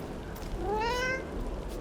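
A cat meowing in Dragon Age: The Veilguard, a single clear rising-then-falling meow lasting under a second, close and fairly quiet against a soft background.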